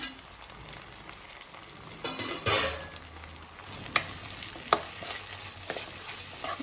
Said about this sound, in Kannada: ಇದನ್ನು ಚೆನ್ನಾಗಿ ಫ್ರೈ ಮಾಡಿಕೊಡ್ಬೇಕು